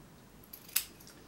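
Scissors snipping a corner diagonally while making a flower keychain, a single quiet close-up cut with a faint lighter click just before it in a hushed room.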